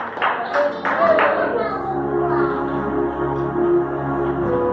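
A church congregation claps during a worship service, a few sharp claps at the start giving way to sustained tonal music and voices that continue to the end.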